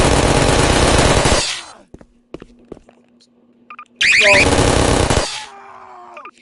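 Two loud bursts of submachine gun fire in a Roblox game, each about a second long and close, separated by a quiet gap with small clicks and a faint tone.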